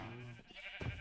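A single sheep bleats up close in the Minecraft video game, near a village animal pen, one short wavering cry lasting about a second.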